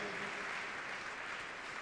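An audience at the Pierres d'Or 2017 awards applauds five nominees for the Green Innovations prize, a dense, uniform roar of clapping that stays steady and rather distant throughout the short stretch.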